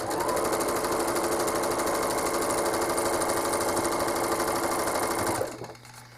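A home sewing machine stitches down the top of a quilt in a fast, steady, even rhythm, close up, then stops abruptly near the end.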